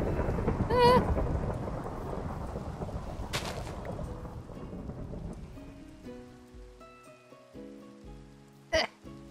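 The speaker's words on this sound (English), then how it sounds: "Storm's gone." Rain and a rumbling thunderstorm in the Minecraft video game pour loudly at first, then ease off and fade while soft game tones and a sharp click sound near the end.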